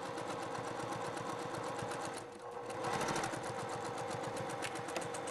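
A sewing machine stitches a padded gear bag at a steady fast pace, its needle clattering in an even rhythm that pauses briefly about midway before resuming.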